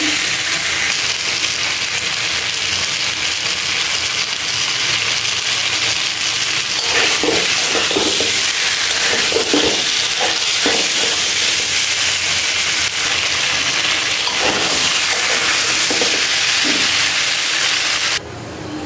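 Tomato added to already-fried potato and eggplant being stir-fried in a pan, giving a steady broad sizzle and hiss with intermittent scraping and stirring clatter, fairly loud and close with no talking.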